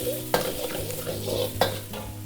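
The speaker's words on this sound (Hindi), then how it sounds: "गार्लिक डाल देंगे 2 चम्मच, 1 चम्मच जिंजर डाल देंगे, हिला लेंगे इनको।" Minced garlic and ginger stirred and sizzling in a hot pan at the start of restaurant-style veg fried rice: a steady loud frying hiss with two sharp clinks of the spoon against the pan, close up and with no voices.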